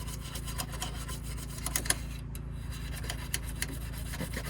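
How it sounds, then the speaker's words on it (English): A small brush rubs and scrubs dust out of the corners and crannies of a car's center console, giving a soft, continuous rasping texture with faint short strokes, close and fairly quiet, with no talking. "I'm going to take the brush and I'm just gonna get it into these little nooks and crannies, the corners, get some dust particles"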